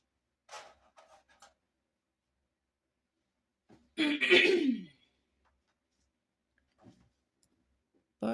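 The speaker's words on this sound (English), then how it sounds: "Pardon me while I clear my throat" A person with sinus trouble clears their throat once in a harsh, rasping rumble lasting about a second, with faint clicks and small handling noises scattered around it in an otherwise quiet room.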